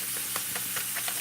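Gravy mix sizzles and fries steadily in a hot pan while squirrel is being cooked, with soft stirring scrapes breaking the constant hiss.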